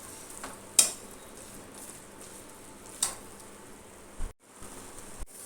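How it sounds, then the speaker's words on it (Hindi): Mawa and nuts roasting in a pan for petha halwa, stirred steadily: a soft, continuous sizzle with a few sharp spoon scrapes against the pan, fairly quiet and without talk. "तो हम इसको चलाते हुए अच्छे से पका लेते हैं"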